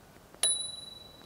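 A single sharp ding from the bicycle bell on an Engwe L20 SE folding e-bike rings out close and clear, then its bright tone fades slowly over the following second.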